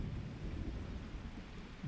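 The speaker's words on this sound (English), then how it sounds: "Does the rain stop over here?" A thunderstorm with steady, dense rain and deep rumbling thunder rolling beneath it, loud and continuous throughout, with no voices.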